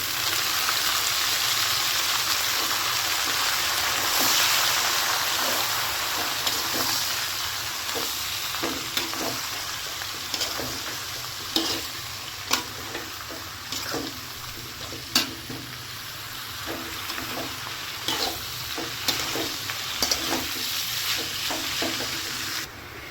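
Leafy greens frying and being stirred in a pan over a low gas flame, a steady close sizzle broken by repeated clicking scrapes of the spatula, with no talk.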